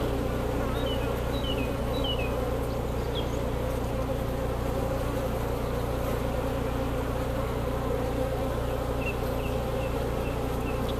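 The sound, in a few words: upset honey bees buzzing in a beehive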